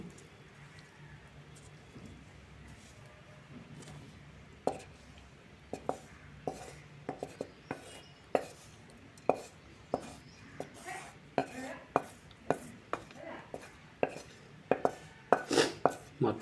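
Ridge gourd pieces being pounded with green chilies and coarse salt for an Andhra-style yogurt chutney in a village kitchen: quiet handling, then irregular sharp thuds and knocks that grow more frequent.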